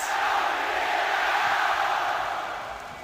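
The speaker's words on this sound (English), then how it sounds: "You can hear the crowd tonight." A large esports arena crowd roars and chants at a League of Legends match between LPL fans, a dense, sustained wash of massed voices that fades slightly near the end.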